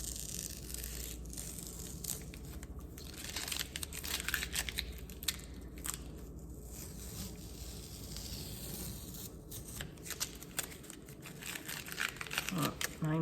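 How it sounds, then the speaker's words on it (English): Painter's tape is slowly peeled off dried painted paper, giving a soft, continuous crinkling and tearing rasp with small crackles, quiet and close. "slowly peel away your painter's tape"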